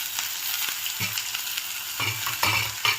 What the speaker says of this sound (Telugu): ఇప్పుడు ఇందులోకి క్యాబేజీ వేసుకుందామండి.